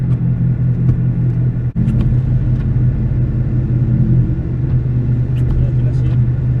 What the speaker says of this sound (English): right now, I'm driving Carlos's car